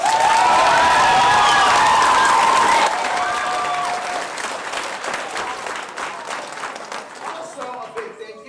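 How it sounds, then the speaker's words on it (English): At an elementary school assembly, a crowd claps and cheers for custodians and staff, loud at first with bright whoops and tonal sounds over the clapping, then thinning after a few seconds into scattered, fading claps. "Give them a round of applause"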